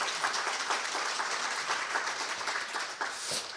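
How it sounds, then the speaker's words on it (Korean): A seminar audience at a financial crime prevention policy event applauds to open the session, with steady, moderately loud clapping sustained throughout the short stretch. "박수로 세미나 시작하겠습니다."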